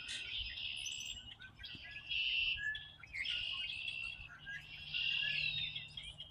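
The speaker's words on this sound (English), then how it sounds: "I like hearing the birds." Birds chirp and trill in repeated phrases of high song, moderately distant, over a soft outdoor background hum.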